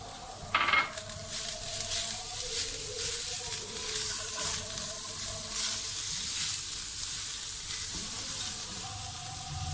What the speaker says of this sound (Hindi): थोड़ा सा 1 मिनट के लिए हमने उन सब्जियों को भून लिया था।